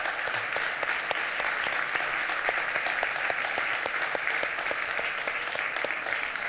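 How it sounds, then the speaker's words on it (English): An audience at a game development talk applauds steadily, a dense, sustained clapping from many hands at moderate distance. "can we give a round of applause to the team"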